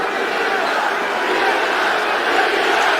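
A packed arena crowd at UFC 202 chants "Diaz" during the McGregor vs Diaz fight, a loud, sustained roar of many voices that fills the space without break.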